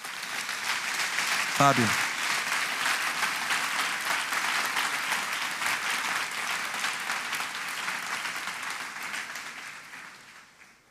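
A church congregation applauds steadily and loudly for the whole span, dense clapping filling the hall before slowly tapering toward the end, with a brief spoken name over it near the start.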